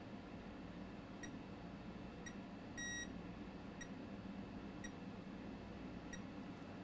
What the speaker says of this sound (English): Meter in diode mode, and we're going to randomly test capacitors